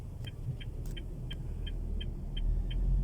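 A red car's engine rumbles low and steady while driving, growing slightly louder toward the end, with a faint repeating high tick above the drone.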